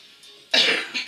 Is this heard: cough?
yes